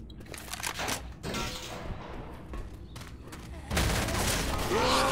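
Bursts of gunfire from Left 4 Dead 2 crackle through a busy game mix, with a louder, denser stretch of shooting near the end; a voice speaks at points.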